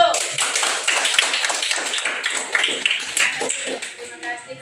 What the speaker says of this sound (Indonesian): Kita memberikan tepuk tangan untuk kelompok 1.